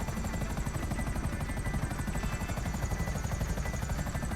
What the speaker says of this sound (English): So it is a very, very quick helicopter.